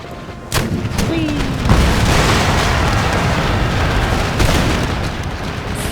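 Cannon fire in Empire: Total War during a battle with Spanish forces: sharp booming reports near the start and again later, over a dense, continuous roar of battle noise.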